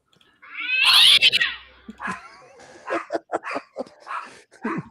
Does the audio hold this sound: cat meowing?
yes